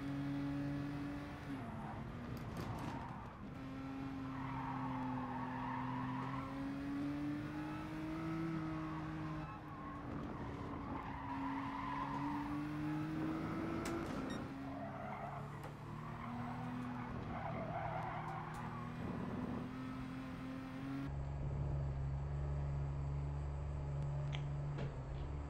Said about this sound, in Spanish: Vieron otra vez los frenos ahí, se volvieron a atorar